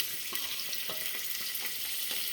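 Two large onions and two green chillies frying in hot ghee for chicken biryani, a steady soft sizzle with faint scattered crackles throughout, no voices.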